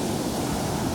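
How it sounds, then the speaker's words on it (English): Ocean surf at Refugio Beach in Santa Barbara County rolls in ahead of a storm, a steady, dense wash of breaking waves with no clear pauses. "the waves are out in front of the storm, so should be getting pretty good here soon"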